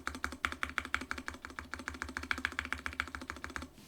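Rapid, even keystrokes on a Varmilo mechanical keyboard with Cherry MX Red switches, the backspace key tapped around twenty times in a steady rhythm, each press a close, crisp clack with some stabilizer rattle, no talking.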